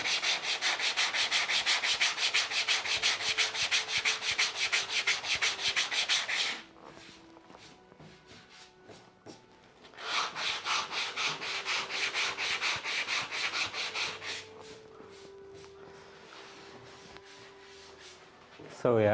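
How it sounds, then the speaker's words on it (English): Sanding a door during restoration, as a steady abrasive rasping in two long loud bursts separated by a quieter pause, with a brief sharp sound at the very end. "do some sanding."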